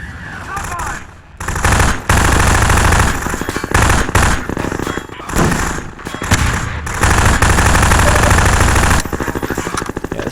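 Sustained bursts of automatic gunfire in the Half-Life 2: Episode One video game, loud and close, firing in long runs with brief pauses between volleys.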